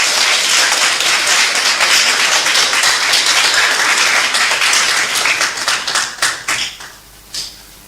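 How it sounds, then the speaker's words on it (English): An audience at a political event gives a loud, dense round of applause that holds steady for several seconds, then thins into scattered individual claps and fades out. "I think she deserves another round of applause."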